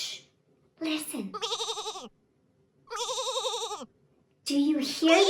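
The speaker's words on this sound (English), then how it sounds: "Yay! It's a sheep!" Sheep bleat in three separate wavering calls with short silent gaps between them, each clear and close, and a brief softer sound opening the sequence.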